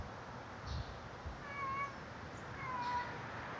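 A cat meows from a distance on a front porch, two drawn-out calls about a second apart, moderately faint over steady outdoor background noise.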